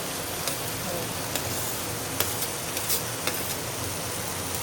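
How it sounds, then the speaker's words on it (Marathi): Chopped onion and green chillies fry in garlic over a high gas flame for a monsoon wild-vegetable dish, giving a steady, even sizzle with faint intermittent ticks of stirring throughout. "आता आपल्याला फास्ट गॅसवर मस्त कांदा छान परतून घ्यायचा आहे बघा"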